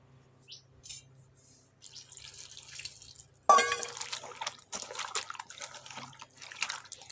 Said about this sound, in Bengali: এখন আমি ভালো মতন পরিষ্কার জলে ধুয়ে নেব।